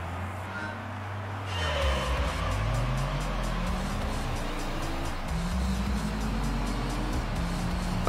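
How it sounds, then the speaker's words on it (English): Racing car engine in Gran Turismo 3 revving hard at launch with wheel spin, the pitch rising and falling through gear changes, loud and continuous with no speech over it. "Okay, we definitely got some wheel spin still."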